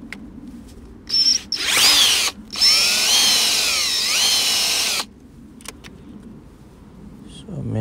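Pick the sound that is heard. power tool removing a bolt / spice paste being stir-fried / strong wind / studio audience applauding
power tool removing a bolt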